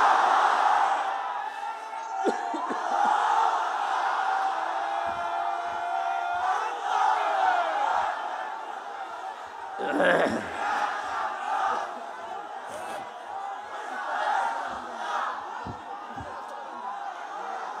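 A large crowd at an outdoor Islamic religious gathering in Bangladesh shouts the takbir in unison, a loud swelling roar of many voices that rises and falls in waves, with a speaker's amplified voice between.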